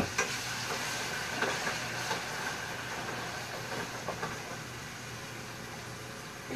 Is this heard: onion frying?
yes